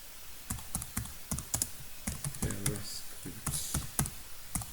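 Fingers type on a computer keyboard, entering an HTML title tag, in quick irregular bursts of crisp, close clicks, with a brief voice heard partway through.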